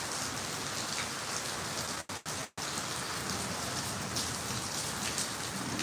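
Hail and rain pelt down in Chandigarh, a dense steady patter of drops striking surfaces, broken by two brief dropouts near the middle before the downpour resumes at the same level.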